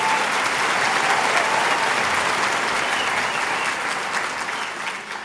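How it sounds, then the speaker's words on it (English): Audience applause at an education awards dinner, a dense, sustained round of clapping from a large crowd that holds steady and begins to taper near the end. "let's give her a round of applause"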